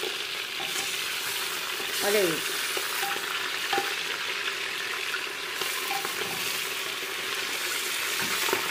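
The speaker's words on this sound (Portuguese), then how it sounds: "Olha como que tá fritando, gente." Food sizzles and crackles steadily in hot oil, with a continuous hiss, a few stirring clinks, and a short spoken remark.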